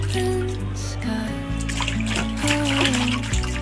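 A little girl splashes and throws bath water at bath time, with continuous watery splatter and sloshing under a steady tonal background, the sound staying close and fairly loud throughout.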